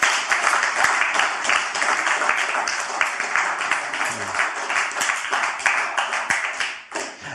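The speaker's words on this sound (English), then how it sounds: "I think you've earned a round of applause." A seminar audience gives a round of applause at the close of a talk on attracting women. The dense, steady clapping from many hands carries on for several seconds, then thins and fades toward the end.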